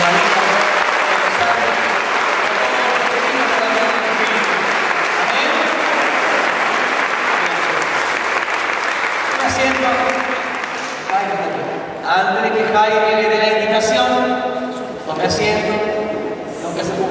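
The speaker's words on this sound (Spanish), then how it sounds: "Y un aplauso al Espíritu Santo." A church congregation applauds during a Spanish-language religious service after a blessing, a loud, dense roar of many hands clapping that holds steady, then thins into more distinct individual claps toward the end.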